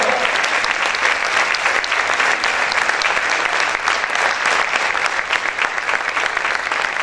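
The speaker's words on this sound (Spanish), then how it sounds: "Vamos a aplaudir fuerte al Señor" Dense, steady applause from a large church congregation fills the whole stretch, loud and continuous with a rapid patter of many hands clapping together.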